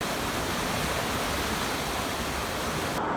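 Fast-flowing, swollen river water after bad weather, a steady, dense broadband rush that stays loud and unbroken throughout.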